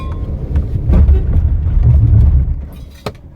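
Car with a freshly cleaned throttle body accelerating hard and then braking, a loud, close, rumbling engine surge that fades out, ending in a brief sharp knock, with no talk.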